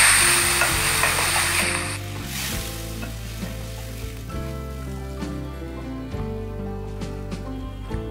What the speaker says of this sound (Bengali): এবার এর মধ্যে হাফ কাপ পরিমাণ জল দিয়ে দিচ্ছি।